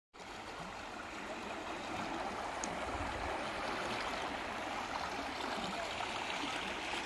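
Water of the Mindhola River flowing beside bullet train construction barriers in Gujarat, a steady broadband rushing and gurgling that stays constant throughout at moderate distance, with no voices.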